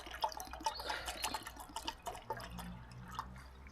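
Water is poured into a container for washing up at an overnight camp, giving uneven splashing drips that settle into a steadier trickle of filling, faint and close by.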